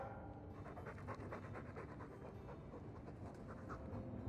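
Mabari war dog in Dragon Age II panting in a fast, steady rhythm of short breaths, close and soft, with no talk over it.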